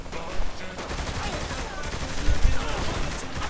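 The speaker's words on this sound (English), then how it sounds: "We're under fire." Gunfire in Saints Row the Third amid a police chase, scattered shots and bursts over engine and street noise, with some thumping impacts midway.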